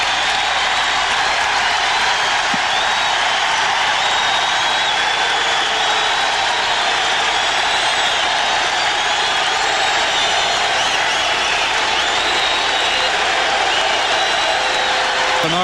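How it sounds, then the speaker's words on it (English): A basketball crowd gives a long standing ovation before an NBA game in 1987, a continuous, loud, dense roar of applause and cheering that fills the whole stretch without pause. "He received a 2+ minute standing ovation from the crowd pre-game."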